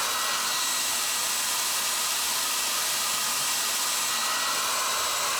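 Heat gun blowing hot air onto tight rubber spark plug wire boots for a Harley Sportster Ironhead motorcycle; a loud, continuous, even rushing hiss held close throughout with no break.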